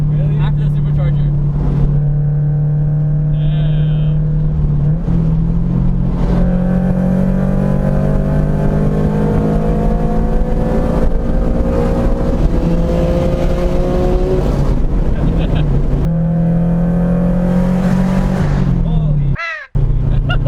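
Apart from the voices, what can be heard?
supercharged Subaru BRZ accelerating hard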